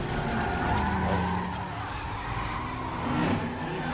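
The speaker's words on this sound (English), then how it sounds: "Well, it is a muscle car" A muscle car's tires skid and squeal under a roaring engine in a Fate of the Furious action scene, loud and continuous with a rising, sustained screech.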